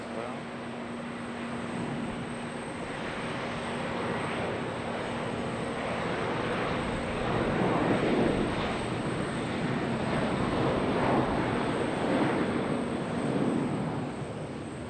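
A small airliner taxis at Charlotte Douglas airport on a single engine, a steady whining jet hum with broadband rush that swells midway, heard from a distance across the field.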